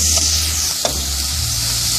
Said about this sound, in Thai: ตอนนี้นะคะเฮาก็เอาปลาดุกที่เฮาฟักแล้วตะกี้เนี่ยค่ะเฮาเอามา คั่วนี่คือคั่วให้มันสุก